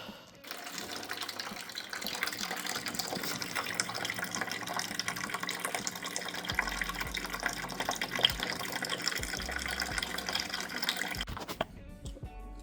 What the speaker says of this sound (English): you're gonna drain the coolant again so we can put the new coolant in. So we do that by just undoing this bolt